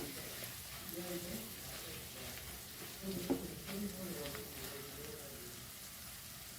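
Tender raw jackfruit bhaji with salt is stirred in a pan, producing a soft continuous sizzle with faint scraping of the spoon, heard close and low, with a voice murmuring in places.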